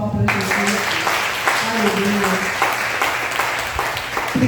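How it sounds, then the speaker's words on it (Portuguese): Sustained applause in a church service, dense and steady clapping from many hands filling the space, with brief speech-like sounds at the very start. "Quem crê, dê uma salva de palmas para Jesus."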